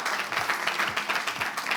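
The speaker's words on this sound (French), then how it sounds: "Applaudissements" An audience at a televised entertainment show final breaks into applause, a dense, even wash of clapping that lasts throughout.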